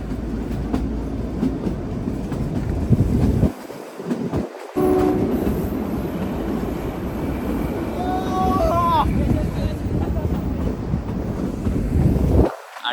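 The Shimla–Kalka toy train rolls along with a steady rumble and rail clatter, broken by a short gap and a horn blast partway through.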